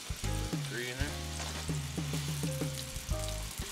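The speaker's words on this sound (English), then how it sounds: "Once the pan is hot, throw on your beef." Beef browns in a hot pan with a steady, loud sizzle and frying crackle. Musical tones play over the sizzle throughout, and no one speaks.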